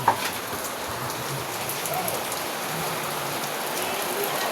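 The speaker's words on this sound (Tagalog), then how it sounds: "Ayan. Ulan, oh. Ulan." Rain falls steadily on a surface, a dense, even hiss with scattered droplet taps, moderately close.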